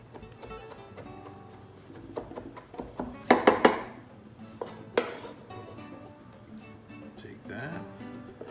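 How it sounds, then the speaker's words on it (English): A kitchen knife chops fresh cilantro on a cutting board for pico de gallo, a handful of quick irregular knocks rising above a person talking throughout, with a louder cluster of chops midway. "we're just going to chop this up nice"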